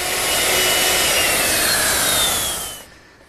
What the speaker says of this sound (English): Next in order is to route the bottom edges of the rail and all the edges of each leg